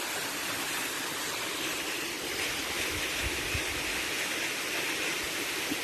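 Steady broadband roar of a tall waterfall in Nepal, constant and unbroken like rushing water, with a faint low rumble partway through and no voices.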